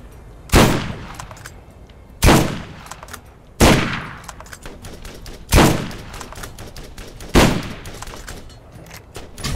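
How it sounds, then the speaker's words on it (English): Five loud, sharp gunshots from the Borderlands shooter, spaced a second or two apart, each with a quick echoing decay over a low background hum. "A lot of fucking shots."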